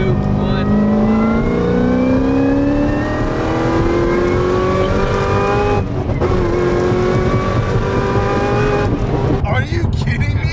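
A supercharged Corvette C6 ZR1 accelerates hard, its engine and blower whine climbing steadily in pitch through the gears, loud and close from inside the car, with brief dips at each shift and a voice speaking near the end.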